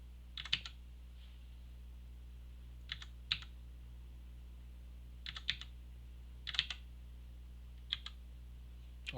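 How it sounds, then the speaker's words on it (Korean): Computer keyboard keys clack in short scattered bursts of a few strokes each, separated by pauses, over a steady low electrical hum; no one speaks. "이제 키보드 능수능란합니다."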